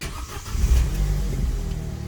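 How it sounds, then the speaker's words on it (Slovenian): A car left running with its engine idling, a close low rumble that swells after a quieter start and then holds steady, alone with no talk. "In pol pustiš avto prižgan 10 minut"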